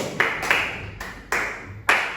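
Five sharp hand claps in an irregular pattern, left, right, a double left, a double right, then one overhead, performed in a classroom practice; each clap is crisp and fairly close, with brief room decay between them.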